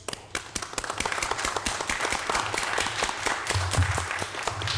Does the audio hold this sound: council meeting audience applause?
yes